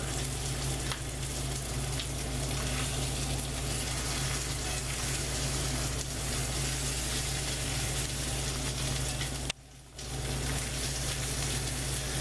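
A New York strip steak sears in a cast iron skillet on a cook stove, a steady, loud, close sizzle that runs without a break and dips only briefly near the end.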